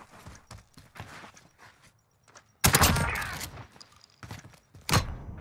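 A Model 680 shotgun fires slug rounds in a first-person shooter game: two loud, sharp blasts, the first followed by a ringing tail, with quieter game sounds in between.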